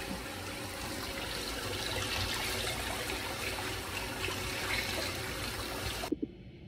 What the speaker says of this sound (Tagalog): Malakas yung daloy ng